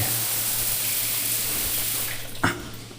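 Water runs steadily from a shower in a hotel bathroom in Baler, Aurora, a continuous close hiss followed by a brief splash or knock near the end, with no talking.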